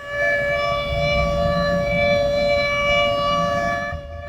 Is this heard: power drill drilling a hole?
no